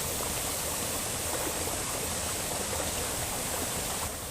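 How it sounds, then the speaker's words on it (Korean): Seongye waterfall at Ubandong pours in a steady, loud, broadband rush of falling water, unbroken for the whole stretch with no voices over it. "우리가 딱 때 맞춰서 와가지고 선계 폭포를 제대로 볼 수 있어서 좋습니다"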